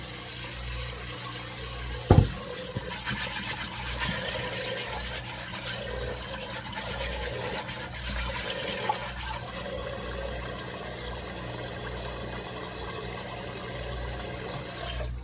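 Tap water runs steadily into a pot of dried beans being rinsed in a kitchen sink, a continuous close hiss broken by one sharp knock of the pot early on.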